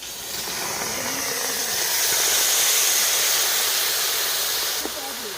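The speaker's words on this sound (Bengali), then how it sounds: "স্ট্রবেরিটা আমি কড়াইতে দিয়ে দিলাম।" Sugar-coated strawberries hit a hot kadai for jam, releasing a loud, continuous steamy hiss and sizzle that swells in the middle and eases slightly toward the end, with faint voice underneath.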